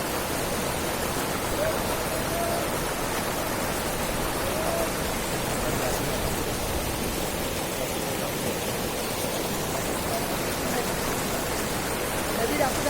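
A river near Pahalgam rushes in a steady, even wash of flowing water, moderately quiet and unbroken, with a faint bird chirp or two over the constant stream.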